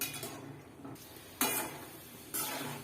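Peanuts roast in hot oil with a faint, quiet sizzle, broken by a few sharp scraping clinks of a utensil against the pan.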